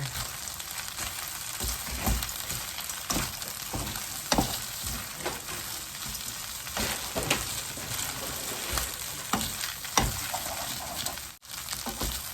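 Stir-frying pad thai with shrimp and garlic leaves in a pan, giving a steady close sizzle with repeated scraping and stirring strokes throughout and no talking.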